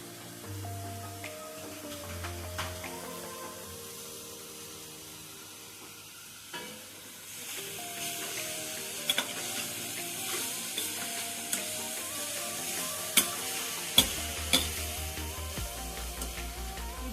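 Beans and carrot stir-fried in a pan give a steady close-up sizzle, with a spatula scraping and stirring and a few sharp clinks against the pan. No one speaks.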